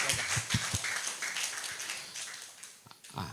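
A small audience clapping at a school-planning talk, a faint, thin spatter of claps that starts lively and tapers off, with a brief flurry returning at the end.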